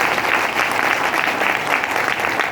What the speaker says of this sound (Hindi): एक बार उनके लिए जोरदार ताली दीजिए।